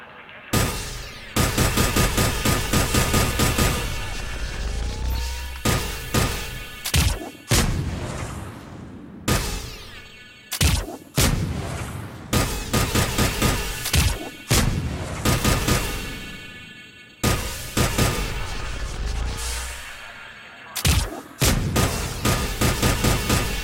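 Bursts of gunfire at a shooting range in the video game Mass Effect 3, loud and close, with rapid repeated shots in clusters broken by short pauses and sharp individual cracks, with no voices.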